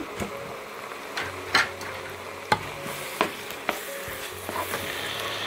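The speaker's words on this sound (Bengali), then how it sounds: "এখন আমি যে একটা স্ট্রেনারের মধ্যে চালগুলি তুলে রেখে দিয়েছিলাম সেটা মিশিয়ে নিচ্ছি" Rice being stirred into hot sugar syrup in a pot for zarda pulao, a low sizzle punctuated by repeated sharp spoon knocks and scrapes against the pan at an uneven rhythm, close and moderately loud.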